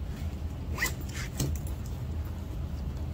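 A zipper is pulled shut on a LiPo safe bag, with a couple of short rasping zips up close over a steady low rumble of background noise, and no talking.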